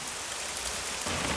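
Steady heavy rain pours down in a film scene, a dense even hiss that grows louder and fuller partway through, with no voices over it.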